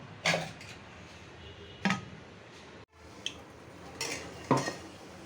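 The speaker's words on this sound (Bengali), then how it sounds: "এখন ঢেকে দিব" A lid is set over a cooking pot of dal with a little water and oil added, making several short metallic clanks and knocks spread over a few seconds in a quiet kitchen.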